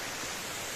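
Meltwater pouring down from above along a snowy mountain road, a steady, dense rushing hiss that fills the whole moment without a break, close and fairly loud.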